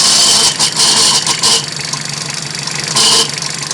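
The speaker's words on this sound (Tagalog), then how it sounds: "Maingay yung alternator ko eh." A Toyota 1C diesel engine runs steadily with a loud, harsh mechanical whine from a noisy alternator, a constant close drone with short brighter surges.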